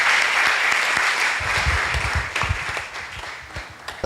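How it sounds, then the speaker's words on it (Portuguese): Congregation applauding inside a church during an evening congress service, dense sustained clapping from a crowd filling the room, loud and steady throughout with some low thumps. "Vamos dar uma salva de palmas para Jesus, irmão."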